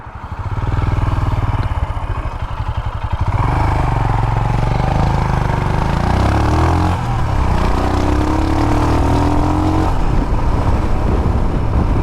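A 2020 Royal Enfield Himalayan motorcycle engine, loud and close, climbing through the revs with rising and falling throttle sweeps and a mechanical clatter underneath, running continuously without speech.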